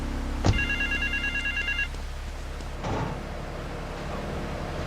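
A telephone bell rings in a short burst of repeated trills, fairly close and clear, then stops, leaving low background noise and a faint knock or shuffle.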